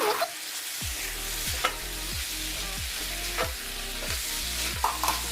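Chicken and vegetables with a spicy mixture sizzle in a pan on a low flame, with a steady fry under rhythmic scraping stirs repeating roughly every second, close and clear with no talking.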